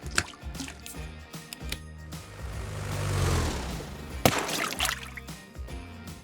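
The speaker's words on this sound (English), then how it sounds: "This is a Christmas bath bomb from Lush." A Lush Christmas bath bomb dissolves in a bathtub of hot water, giving soft drips and a gentle fizzing trickle that swells and then fades, with a sharp splash or knock near the end.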